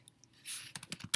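A few quick, close keystrokes on a computer keyboard tap out a short burst of text in a quiet room.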